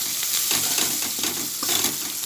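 Onions frying in hot oil in a pan for a Bengali dopiaza with okra, pointed gourd and fish: a loud, close, continuous sizzle with soft stirring scrapes and no talking.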